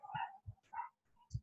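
A few dogs bark outdoors, a handful of short, muffled woofs spaced irregularly and heard from some distance at low volume.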